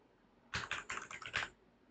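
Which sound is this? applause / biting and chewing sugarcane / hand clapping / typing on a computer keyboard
typing on a computer keyboard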